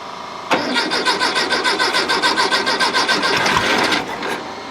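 A 1968 Volkswagen Beetle engine cranks with a fast, rhythmic starter chug for about three and a half seconds, loud and close, then catches briefly before the cranking stops.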